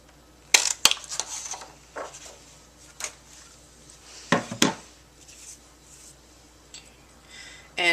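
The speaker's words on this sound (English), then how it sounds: "Using the word window punch, I'm going to go ahead and punch that out." A word window paper punch cuts a shape out of cardstock for a Valentine treat holder: a few sharp, close crunching clicks in two pairs with quiet gaps between, and no talking.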